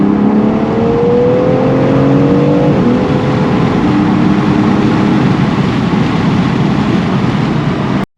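A 2021 BMW X3 M Competition engine pulls hard, with its pitch climbing steadily. A quick downshift blips the revs before it settles into a loud, sustained roar heard from inside the cabin, with no one talking.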